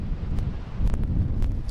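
Steady wind buffets the microphone atop a seaside cliff above a large ocean swell, a continuous low rumble with gusts swelling stronger in the latter half and no voices.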